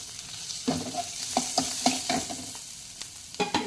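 Onions frying in a pan with curry leaves make a low, close sizzle, with a run of crisp scrapes and taps from stirring that come and go in short bursts.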